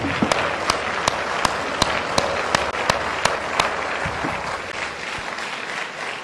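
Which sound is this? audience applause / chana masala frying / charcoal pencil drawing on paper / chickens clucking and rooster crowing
audience applause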